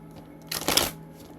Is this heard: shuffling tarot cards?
yes